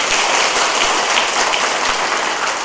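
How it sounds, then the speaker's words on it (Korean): A church congregation clapping to welcome a young newcomer: loud, dense, even applause from a large group filling the whole stretch, with no talking over it. "저는 박수로 환영합니다"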